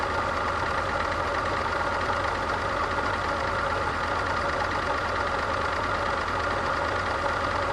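An Alpine V6 turbo engine, abandoned for many years and leaking coolant from its expansion tank, idles with a continuous, even mechanical drone and a faint knocking texture, close by with no talking.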